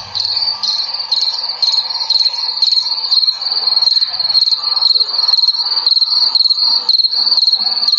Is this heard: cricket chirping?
yes